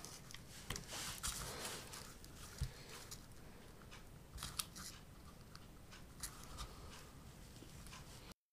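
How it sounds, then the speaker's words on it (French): Point of a utility knife lifting adhesive tape off a Tetra Pak carton, close, faint scratchy clicks and snips in irregular bursts over a quiet background hiss. "avec la pointe du cutter, quand vous soulevez le ruban adhésif, à ne pas faire de rayures sur le Tetra Pak"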